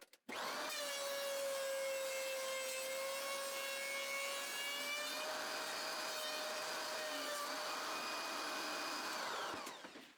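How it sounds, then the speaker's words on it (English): A planer takes a light smoothing pass over resawn 2x4 wood. A steady tonal whine holds for about nine seconds and then cuts off, close and loud, with no talking. "To remove the saw blade marks, I give them a light pass on the planer."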